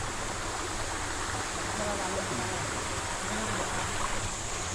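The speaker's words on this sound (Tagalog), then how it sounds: "Itagpuan na namin yung ilog na hinahanap namin." Rushing river water in a mountain forest, a steady broadband wash that stays even and fairly close throughout with no voices over it.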